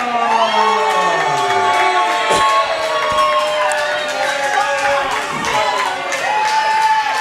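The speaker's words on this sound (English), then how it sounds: "And there are a few people here cheering for the 3-count." A small crowd at a wrestling event cheers and shouts for the wrestler before the bout. Several voices whoop and yell close by in an uneven, lively clamor that carries on throughout.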